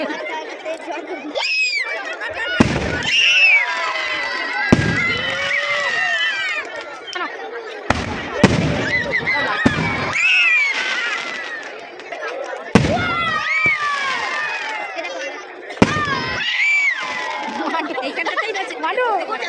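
Fireworks burst overhead at the Balagarh Rash fair. Sharp booms come every few seconds over constant crowd chatter, with people talking close by.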